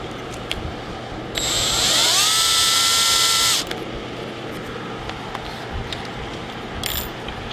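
A number 30 bit drills a hole in an aircraft flaperon part, a loud whining drill burst of about two seconds that rises in pitch and stops abruptly, with a few light clicks before and after.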